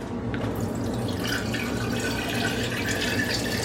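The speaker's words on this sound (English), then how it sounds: "and then just fill with water." Tap water pours steadily into a jar holding a cold brew coffee packet, a continuous close splashing and trickling fill with no talk.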